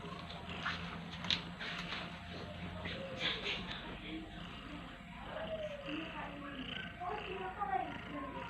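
A pet cat that has just caught a hamster is heard up close, giving soft purrs and low, strained vocal sounds amid rustling and shuffling, with a person talking over it throughout.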